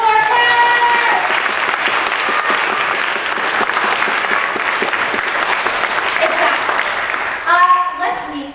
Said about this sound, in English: Can we get a big round of applause for the Heath Quartet?